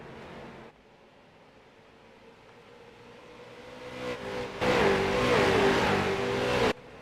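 A stock car leading the race at USA International Speedway roars steadily on board, its engine note building and swelling louder down the back straightaway before cutting off abruptly.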